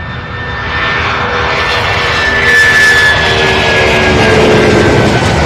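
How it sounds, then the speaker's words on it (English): A Boeing 767 jet airliner taxis at an airport, its engines a loud, steady whining roar with a sustained high tone, swelling slightly as it moves nearby. "I believe we have a 767 taxiing."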